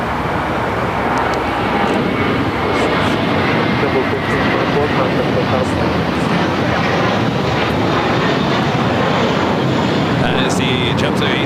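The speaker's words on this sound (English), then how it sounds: "That is the JetBlue A321 heading to JFK." A JetBlue Airbus A321 jet at LAX heading out for JFK, a loud, sustained engine roar with broadband rumble throughout, while a voice talks over it.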